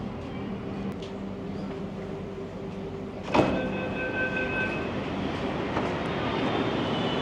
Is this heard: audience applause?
no